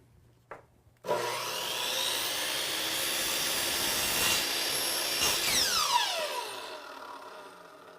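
A hand saw cuts a 45-degree bevel through wood flooring trim, a steady, close rasping stroke that runs for about six seconds and then trails off.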